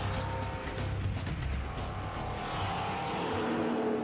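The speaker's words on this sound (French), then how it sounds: "m'installer à bord d'une voiture et faire plusieurs tours de piste" A race car lapping a track at high speed, around 270 km/h, roars loudly and steadily throughout with a dense engine drone and no talk.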